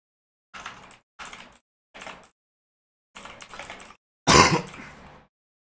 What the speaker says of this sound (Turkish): Bu yayında bol bol öksürük sesi duyacaksınız.